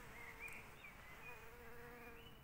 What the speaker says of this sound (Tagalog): Maraming mga bubuyog kahit saan-saan.